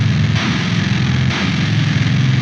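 Heavily distorted metalcore guitar tuned extremely low, a thick, buzzing sustained tone ringing loudly and steadily with a slight re-attack partway through, played alone.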